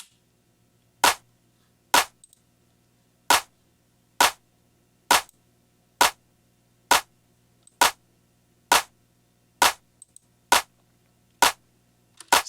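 A dry clap drum from a house track, heard with no transient shaping: sharp single hits spaced about a second apart, a dozen in all, each cracking loud and decaying quickly over near silence.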